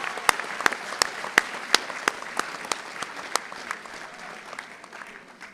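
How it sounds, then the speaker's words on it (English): Audience applause for graduates at a university commencement ceremony, a thin spread of claps in a large hall with a few sharp, distinct hand claps standing out, tapering off toward the end. "Let's give them another round of applause."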